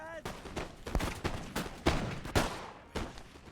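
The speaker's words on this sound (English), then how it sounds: "They got some Voltigeurs like right in front firing too" Voltigeurs firing muskets in the strategy video game Napoleon: Total War, a ragged series of sharp cracks arriving every half second or so, some close and loud, others duller and farther off.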